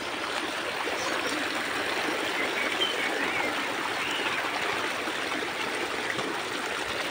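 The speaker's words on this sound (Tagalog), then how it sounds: "kusog ng tubig" A strong stream rushes steadily through wooded farmland, its dense, continuous roar of flowing water holding an even level for the whole stretch with no voices.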